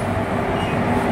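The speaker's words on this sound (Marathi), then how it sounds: "तर आज आपल्याला कॅरी करणार आहे WKM3 कोकण कन्या एक्सप्रेस" A WKM3 locomotive hauling the Sindhudurg Express on the Mumbai to Ratnagiri line gives a steady, loud rumble of rolling rail cars, continuous and without talk.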